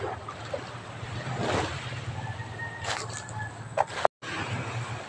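Exhaust from the engine of a large fiberglass boat near the water, a steady low droning rumble with small bursts over a background wash, then a brief cutout before it resumes.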